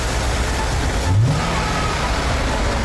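A Ford F-150 pickup, damaged and sitting on three wheels, runs steadily just after starting, with a loud, close, continuous engine drone and a short low rev swell partway through, no voices.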